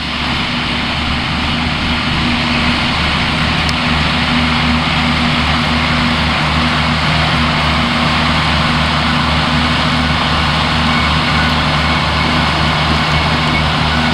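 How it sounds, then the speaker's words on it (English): A 200 horsepower Fendt tractor pulls a potato harvester in a field near Dereham, Norfolk, its engine a loud, steady, unbroken drone with mechanical rumble and no pauses. "we've got a Fendt tractor, which is 200 horsepower. That's pulling the potato harvester."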